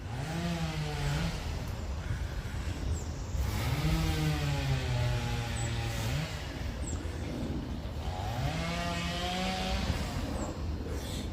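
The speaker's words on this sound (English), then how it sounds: "Very serene, except for the chainsaw that's going off right now." A chainsaw runs in a garden, its engine cycling through long rising and falling revs, steady and fairly loud throughout with no talking.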